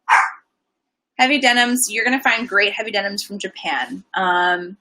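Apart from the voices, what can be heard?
dog barking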